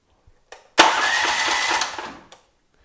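An electric starter cranks a Honda GX390 13HP engine after a couple of brief clicks, the motor catching and roaring loudly and steadily for over a second before cutting off abruptly, close up.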